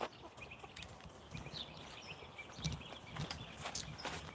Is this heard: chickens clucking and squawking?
yes